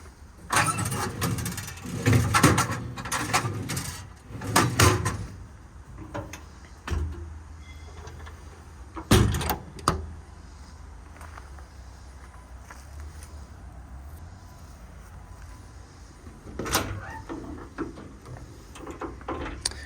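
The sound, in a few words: truck compartment drawers opening and closing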